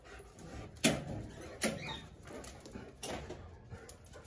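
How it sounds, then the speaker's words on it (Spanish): A dog gives three faint, sharp barks at a small bird, with soft bird sounds in a quiet outdoor setting. "Ladrándole al pajarito ahí."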